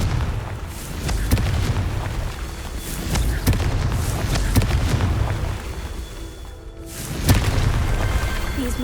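A Confringo fire spell in the video game Hogwarts Legacy sets off a series of loud booming blasts with sharp cracks over a rumbling bed, with a brief lull before a final strong hit.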